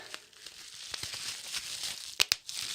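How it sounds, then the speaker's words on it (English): Packaging of a Canon 50mm lens being unwrapped, continuous close crinkling of bubble wrap and plastic with a couple of sharp louder rustles near the end, with no talk. "Now I'm going to do an unwrapping video."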